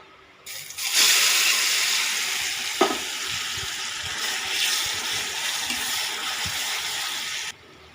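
A spice mix hits hot oil with a sudden loud hiss that settles into a steady close sizzle, broken by a sharp clink of a utensil and a few soft stirring scrapes before cutting off.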